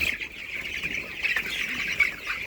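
Many chicks on a poultry farm chirp in a dense, steady, high-pitched chorus, close and continuous, with no pauses.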